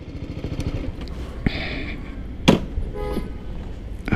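A BMW G310 GS motorcycle in Chandigarh with its exhaust note rumbling at low revs, broken by a few sharp blips and transients, heard fairly close.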